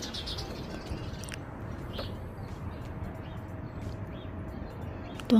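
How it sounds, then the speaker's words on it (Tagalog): Birds chirping outdoors on a calm morning in a quiet Canadian neighborhood, scattered faint tweets over a steady wash of background ambience. "Tuwang-tuwa na yung mga ibon."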